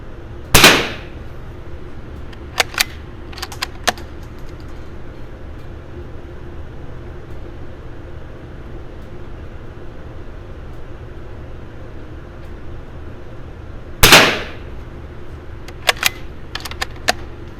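A French MAS Model 45 .22lr bolt-action rifle fires at an outdoor range: two sharp, loud cracks about thirteen seconds apart. Each shot is followed by lighter metallic clicks from the bolt, over a steady low background hum.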